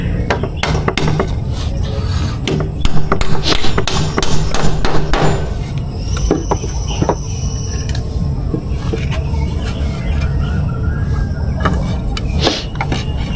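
Nails hammered into a wooden chair, with rapid, loud metallic strikes close by, coming in uneven bursts with short pauses.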